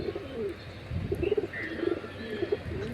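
A newly acquired pigeon coos in a few soft, rolling bursts at close range over a quiet background, with no one speaking.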